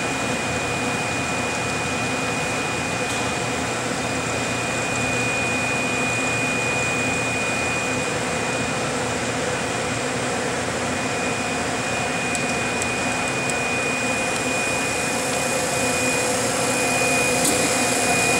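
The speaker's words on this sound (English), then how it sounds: "we put the Varian SC200 vacuum pump in here, and it continuously runs" A Varian SC200 vacuum pump runs continuously on a Vacuum Atmospheres HE-243-2 glove box, producing a steady, close mechanical hum and whir with a constant high whine and no breaks.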